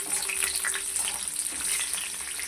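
A few dry red chillies frying in hot oil with peanuts in the pan, a dense continuous sizzle with light stirring, close and fairly loud, no talking.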